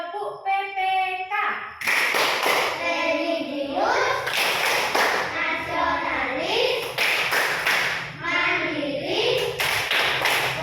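A teacher leads a classroom of children in the Tepuk PPK, a rhythmic clapping chant in which bursts of hand claps land in patterned beats between chanted words, loud and near.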